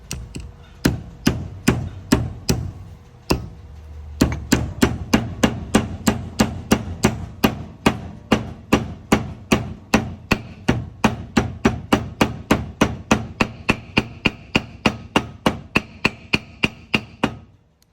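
A seal is hammered into a Buick Grand National wheel hub with steady, evenly spaced sharp metallic blows, dozens in a row, close and fairly loud.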